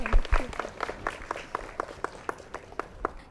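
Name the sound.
audience applause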